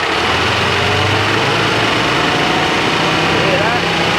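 A car engine revving from idle while its faulty air conditioning compressor chatters, a steady dense mechanical rattle and drone heard up close throughout.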